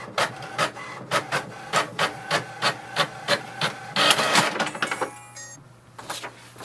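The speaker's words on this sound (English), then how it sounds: "It will send a command for the printer to print the printer information page." HP Envy 6052 printer printing an information page: a steady run of rhythmic mechanical clacks from the paper feed, then a busier whirring burst as the sheet moves through, close and clear with no talk.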